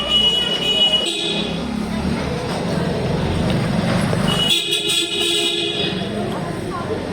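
A vehicle coming up from behind on a road sounds its horn in two longer blasts over steady traffic rumble, with voices around.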